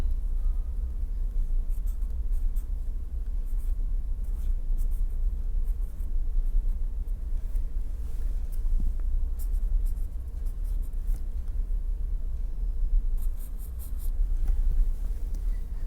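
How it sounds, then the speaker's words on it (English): Writing during an engineering lecture on stresses and strains, a steady soft scratching that runs continuously for the whole stretch over a low room hum, with no talking. "Now, let us write down"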